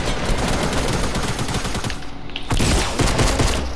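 Dense, continuous gunfire from a PS4 shooter game, rapid overlapping shots at a steady loud level with a brief dip midway before the barrage resumes.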